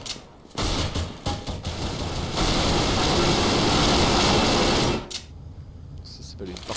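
Counter-Strike: Global Offensive gunfire sounds as dense automatic fire with a few short bursts, then a sustained loud roar of overlapping shots that cuts off sharply, with a player's voice likely mixed in.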